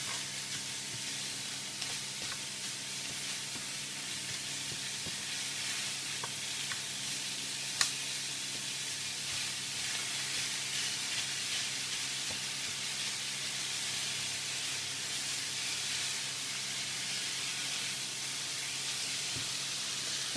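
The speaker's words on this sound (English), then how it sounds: "we just want to break that up and fry it for a couple of minutes" Minced meat fries in a pan, broken up while it browns, giving a steady, dense sizzle and hiss that holds evenly for about twenty seconds with a faint clink partway through and no talking.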